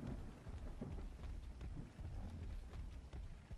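Rain falls over a quiet video game world in Stark War's RP, a faint, steady wash of rainfall with low, rolling rumbles of distant thunder underneath, continuous and unbroken by any voices.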